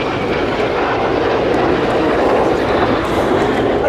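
Red Arrows jets in an air show display, a loud continuous roar of jet engines rumbling overhead without break.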